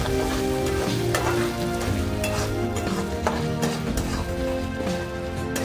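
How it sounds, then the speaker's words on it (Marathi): Small potato slices fry in hot oil in a kadai, giving a dense, continuous crackling sizzle with scattered sharp pops and taps, close and steady throughout. "बटाट्याच्या ज्या छोट्या छोट्या खापा केलेल्या आहेत त्या ह्या तेलामध्ये फ्राय करून घेणार आहे"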